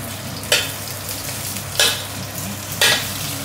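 Braised pork belly with galangal is stir-fried in a pan, with a steady sizzle running throughout. Three sharp scraping stirs land at even intervals, close and moderately loud, and no one speaks.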